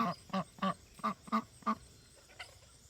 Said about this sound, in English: The ducks with all their opinions